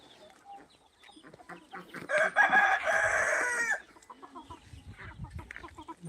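A close rooster crows loudly for a couple of seconds among soft clucking and scratching of native and Chinese-breed chickens, with quiet farmyard noise before and after.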